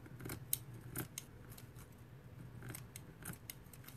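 Scissors snipping material for a bee wreath, a series of short, quiet, crisp cuts at an uneven pace, close by with a faint low background hum and no talking.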